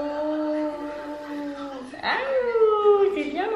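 A young child imitates a wolf howl with a drawn-out voiced wail that falls, breaks off, then rises again into a second longer howl, close and fairly loud in a bedroom.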